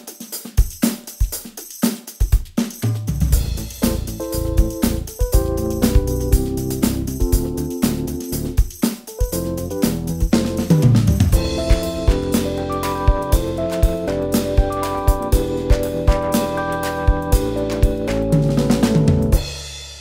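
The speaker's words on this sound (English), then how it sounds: "this is our first look at Goran Grooves Handy Drums version 2" A full drum kit from the Goran Grooves Handy Drums v2 software plays a busy groove with punchy kicks, snare hits and cymbals, building into a dense fill-laden pattern, loud and alone.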